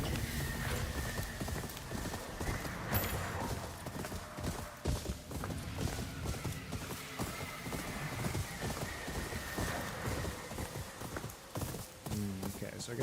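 Rhythmic clip-clop of horse hooves at a run in Ghost of Yotei, with a horse whinnying, mixed into busy game music and effects with a voice over it.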